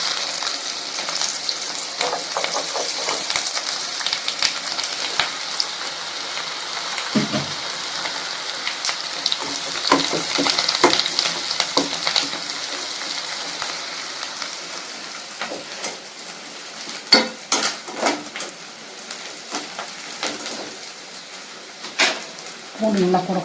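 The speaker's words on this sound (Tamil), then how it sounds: "இந்த நல்லா வறுக்கணுங்க" Chicken uppu kari sizzling and frying with garlic in a pan, a steady crackling hiss throughout with occasional stirring scrapes and clinks near the end, close and moderately loud.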